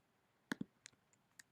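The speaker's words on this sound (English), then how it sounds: "I'm just gonna click to close that window." Computer mouse clicks in a quiet room, a quick pair of soft clicks followed by several fainter taps and clicks close to the microphone, with no one talking.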